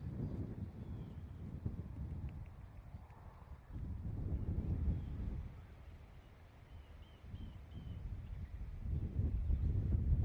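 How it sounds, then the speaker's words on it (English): Wind blowing outdoors buffets the microphone in low rushing gusts that rise and fall for the whole stretch, with faint chirps in the background. "Oh, it sounds windy."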